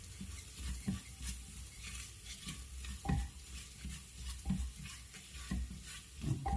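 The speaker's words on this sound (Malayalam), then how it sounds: "ഇത്രയിട്ടിട്ട് നന്നായിട്ടൊന്നും കൂടെ ഇളക്കുക കേട്ടോ" Squid roast with ground pepper, bay leaf, cardamom and cinnamon being stirred in a pan, a spoon scraping in steady strokes over a soft continuous sizzle, close and fairly quiet, with no voices.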